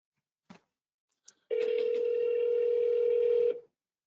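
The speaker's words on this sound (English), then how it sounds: "Okay, it's ringing to me." A single steady electronic ringback tone on an outgoing phone call sounds for about two seconds, preceded by two faint clicks, clear and alone with no voices.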